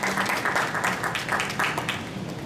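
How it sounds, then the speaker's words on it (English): Applause from a congregation at a church fundraiser for a missionary, broadband and sustained for a couple of seconds with a slightly pulsing rhythm, moderately close, no one speaking over it. "if you want to clap, clap"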